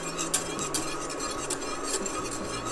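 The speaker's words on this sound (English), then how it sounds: "Give that a good mix until it fully dissolves" A spoon scrapes and clinks around a pot while honey is stirred into a warm liquid until it dissolves, giving soft repeated metallic taps at a steady rhythm over a constant hiss, with no talking.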